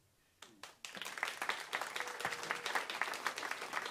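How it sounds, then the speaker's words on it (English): An audience at the Creative Change Makers 2023 event bursts into applause after a talk, starting with a few scattered claps and building into steady, dense clapping that continues throughout. "We'll pass on your applause to him."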